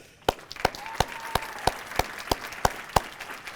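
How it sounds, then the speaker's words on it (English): Clapping for Susan Getter, about nine distinct, evenly paced claps standing out over a softer background patter of scattered applause, moderately close. "can I get a round of applause for Susan Getter?"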